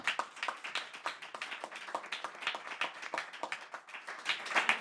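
Audience applause after a panel and concert honoring a Spanish composer at Harvard: steady, dense clapping from a moderate-sized crowd, even throughout and swelling slightly near the end.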